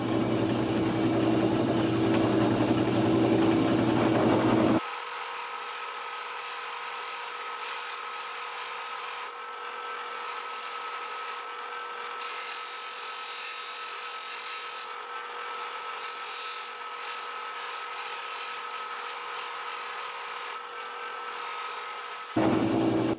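Pads buff a Tru-oil finish on a Telecaster guitar body, producing a steady, even machine whir with light rubbing that runs unbroken for most of the stretch, preceded and followed by a louder, fuller burst.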